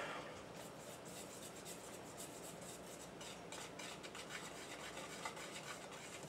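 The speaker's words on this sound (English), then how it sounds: "Now I have to whisk." Chocolate cake batter is whisked in a bowl with steady, soft scraping and swishing strokes at a faint, even level, with no talk.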